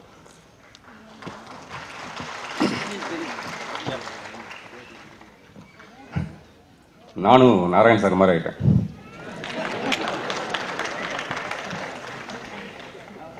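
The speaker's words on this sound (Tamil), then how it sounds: "இந்த கைத்தட்டல் சாதாரணமான விஷயம் இல்லை" Clapping rises from the crowd at a Tamil film audio launch, broad and moderately loud, fading out as someone speaks briefly into a microphone, then swelling again afterward.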